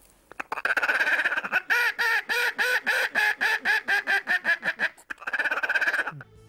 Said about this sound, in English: Here comes the ducks and the geese.